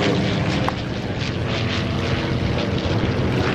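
A propeller aircraft flies over an air show, its loud, steady engine drone filling the air continuously, with a brief sharper tick partway through.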